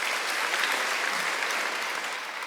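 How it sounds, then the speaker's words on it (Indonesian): Church congregation applauding during an online service, steady dense clapping that holds for about two seconds and then begins to fade slightly. "Tepuk tangan bagi Allah kita."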